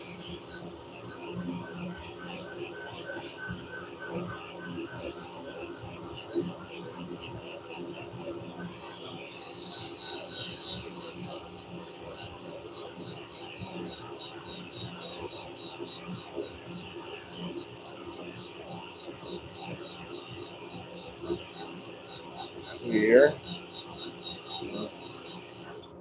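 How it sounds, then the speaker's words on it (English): Soft, steady rasping of sandpaper against a spinning wooden bowl on a lathe, over a constant motor hum; a single short word is spoken near the end. "we want to make sure that we're sanding that real smooth"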